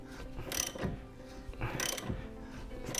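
A lug nut is hand-cranked down to pull an ARP extended wheel stud through on a Lexus IS300 hub, making quiet ratcheting clicks and mechanical scraping in a few short bursts, close and faint.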